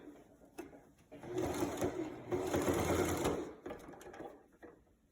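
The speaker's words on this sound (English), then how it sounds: "Continue sewing." A sewing machine stitches a skirt seam near a dart in two sustained runs, each a whirring rattle that starts and stops, with quiet pauses and small clicks between them.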